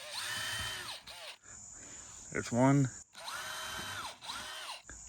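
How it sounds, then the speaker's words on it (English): Small 3/32 drill bit boring holes in a lid: two close, high-pitched bursts of a small power drill, each rising as the motor spins up, separated by a brief pause with a short spoken remark and a ratcheting click. "Push the lid on so I know where to drill the hole. I'm going to be using just a small 3/32."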